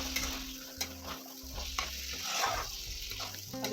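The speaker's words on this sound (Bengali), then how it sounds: "আলুটা আলাদা ভেজে নিয়ে এর সঙ্গে একটু ভেজে কষিয়ে নিলাম" Boiled potatoes frying and being stirred in oil in a pan for a prawn dhoka dish, a soft sizzle broken by scraping spatula strokes and light clinks, fairly quiet and close.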